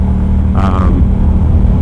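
2022 Yamaha R7 motorcycle fitted with a Yoshimura R-77 full exhaust, a loud, close, deep rumbling engine note with a short rising rev partway through.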